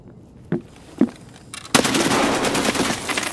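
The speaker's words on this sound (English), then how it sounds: "AKM is a shredder." AKM rifle fire in Escape From Tarkov: two single sharp shots, then a loud sustained full-auto burst that rattles on to the end.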